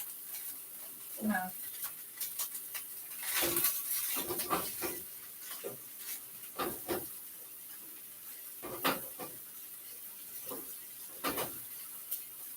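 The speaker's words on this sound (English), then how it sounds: "I just kind of want to get the rice started frying a little bit." Rice frying in a pan for vegan tofu fried rice, with intermittent scraping stirs and soft sizzling at close range, quiet between strokes.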